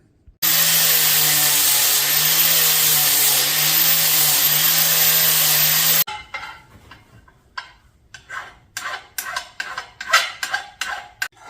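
A power tool grinds steadily on a steel branding iron, cleaning it and rounding off the corners, a loud continuous whine for several seconds that then cuts off and gives way to a run of sharp metallic knocks and clatters.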